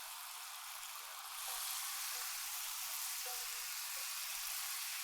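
Wine simmering with mushrooms in a pan for a pan sauce, a steady close sizzle and bubbling hiss that swells slightly after the first second and holds evenly, with no talking.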